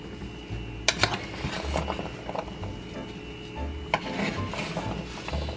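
Dry fall potpourri ingredients, orange pieces and cinnamon among them, are stirred together in a bowl, giving a close, soft rustling and scraping with a few sharp knocks against the bowl.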